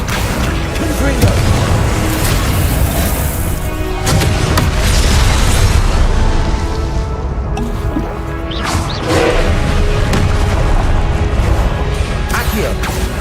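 Repeated explosive bursts from the Confringo blasting spell in Hogwarts Legacy break through a loud, constant mix of magical combat effects, with sharp cracks near the middle and a voice talking at times.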